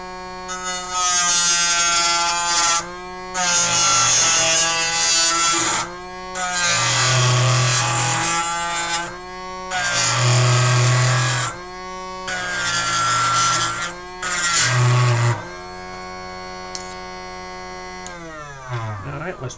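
A balsa wood popper spun on a thin 3/16-inch bamboo mandrel is sanded in loud, buzzing bursts of a few seconds each, separated by short pauses, with a steady motor hum running underneath throughout.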